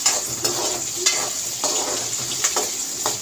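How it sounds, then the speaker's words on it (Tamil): Shallots sizzle steadily in hot sesame oil with a loud, continuous crackle, punctuated by occasional scrapes of stirring. "சின்ன வெங்காயம் நல்லா வதங்கட்டும்"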